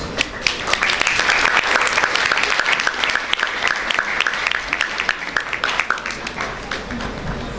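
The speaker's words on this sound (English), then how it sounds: "Let's start the event with a huge round of applause." Audience applause at a school awards ceremony, dense steady clapping from a large crowd that runs the full length and thins slightly toward the end.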